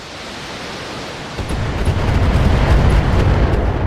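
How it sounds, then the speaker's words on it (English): Missiles fire and explode in BTA mod gameplay: a quieter noisy rumble builds into a loud, sustained roaring blast wash from about halfway on, dense and continuous with no talking. "that guy fires an uncomfortable amount of missiles"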